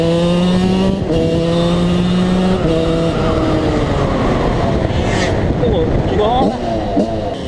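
A Kawasaki KX 125 motorcycle engine roars loud and close, revving up and down repeatedly with rising and falling pitch throughout.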